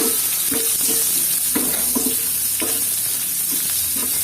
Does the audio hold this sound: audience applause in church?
no